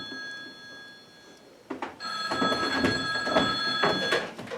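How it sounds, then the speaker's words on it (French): A telephone rings indoors with a repeating electronic bell tone. A faint ring comes first, then louder bursts of ringing follow from about two seconds on over a steady background. "Vous feriez mieux de répondre au téléphone."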